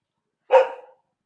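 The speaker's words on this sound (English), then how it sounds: "That's our little doggy. He's usually running free. He's a boxer." A single short, sharp bark from a boxer puppy in a kennel at a Thai home, close and loud, with silence before and after.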